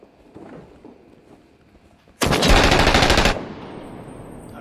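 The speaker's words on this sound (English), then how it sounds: "Why'd you shoot at that freaking sniper?" Gunfire in the video game Six Days in Fallujah: after quiet background noise, a loud, sustained burst of rapid automatic fire lasts about a second, then fades into a lingering echo.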